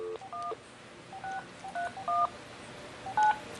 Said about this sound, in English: So I'm going to dial the NOAA weather phone number.